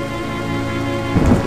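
Thunderstorm with steady rain on surfaces and a low rumble of thunder swelling near the end, loud and close, with no voices over it.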